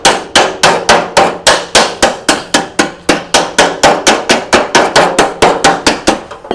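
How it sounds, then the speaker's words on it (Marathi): A hammer strikes a folded tin sheet cut from an empty oil can in an even, rapid rhythm, about two dozen loud, close metallic blows each ringing briefly, with no talking. "हे आता दुमडून झाल्याच्या नंतर आपल्याला असा ठोकून घ्यायचा आहे बघा"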